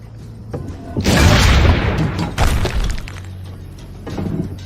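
Cannon fire in Assassin's Creed Brotherhood: two heavy booming blasts with crashing, shattering debris, loud and close, followed by a smaller thud as the noise dies away.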